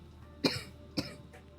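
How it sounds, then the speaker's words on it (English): Two short, sharp coughs about half a second apart, followed by a fainter third, in an otherwise quiet room. "Why am I coughing?"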